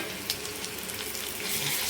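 Grated raw mango paste sizzling in tempering oil for mango pulihora, a dense, continuous hiss of frying, close and steady with no talking.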